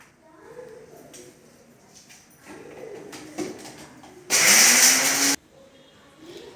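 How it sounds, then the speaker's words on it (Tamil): A mixer grinder grinds palm jaggery in one short, loud, roaring burst of about a second, set between stretches of talk. "இப்போ வந்து பனங்கருப்பட்டியும் நல்லா அரைச்சாச்சு"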